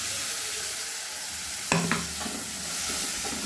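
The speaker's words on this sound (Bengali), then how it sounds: "অল্প একটু কষে নেব, একদম মিডিয়াম আঁচে এটা কষে নিতে হবে" A paste of onion, tomato, green chili and garlic being stirred and fried over medium heat for hotel-style egg curry: constant sizzle with a sharp utensil clatter midway, then more scraping.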